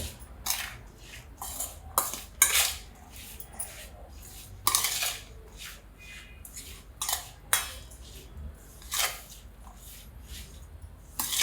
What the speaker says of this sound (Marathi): आता हे मिक्स करून घेते मी सगळं